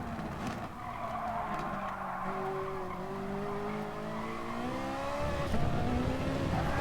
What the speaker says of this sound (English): Whoa, huge snap oversteer.